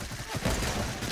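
Automatic gunfire in a first-person shooter video game, a dense burst of rapid shots filling the whole moment at moderate loudness with no talking.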